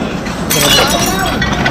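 Glass breaking amid scattered clinks and cracks while sifting through discarded items, a sudden shattering burst at about half a second followed by continued rattling, with a voice nearby.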